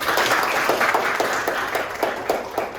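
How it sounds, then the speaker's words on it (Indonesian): Classroom of schoolchildren clapping for a classmate, a steady wash of many small hands with a faint rhythmic pulse, close and continuous. "Tepuk tangan untuk Brian dulu."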